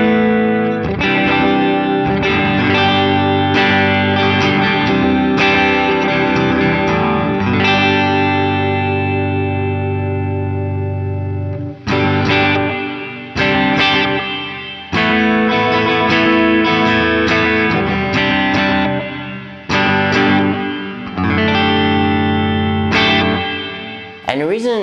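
An electric guitar strummed through a Horizon Devices Flux Echo pedal on a lush worship-style setting rings out loud and close in washy, repeating chord strums, delays and chorus smearing the tails, with brief gaps between phrases.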